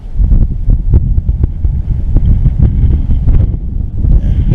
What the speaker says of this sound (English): we got a pretty heavy breeze